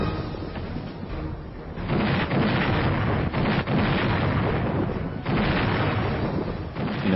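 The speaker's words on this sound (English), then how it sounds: "He ordered an unprecedented barrage of heavy artillery." Heavy artillery barrage in the Korean War's Iron Triangle: continuous loud rumbling booms and blasts that swell and overlap with no break, heavy and dense throughout.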